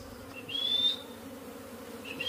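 A disturbed swarm of honeybees buzzes around a person outdoors, a low steady hum with a higher, faint whine drifting in and out, moderately close.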